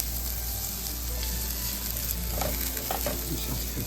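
Garlic cloves cooking in a pan for a chicken curry, giving a steady close sizzle with stirring and scraping clatter toward the end, no voices.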